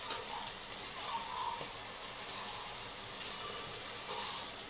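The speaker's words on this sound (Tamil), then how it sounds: "நல்லா வறுக்கும் போது சூப்பராக இருக்கும் சம்பா கோதுமை வறுத்து எடுக்கும் போது" Samba wheat frying in a pan with onions, a steady soft sizzle with occasional stirring, continuous and moderately quiet.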